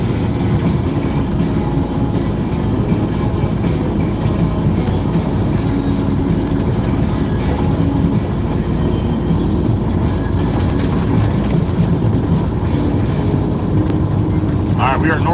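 A truck carrying a full load of dirt drives northbound on a boulevard, with a steady loud engine and road rumble throughout and rattling from the cab, heard close from inside.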